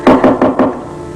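A knock at a door in a television drama scene: four loud, evenly spaced raps in quick succession, close by and clear, with no talking over them.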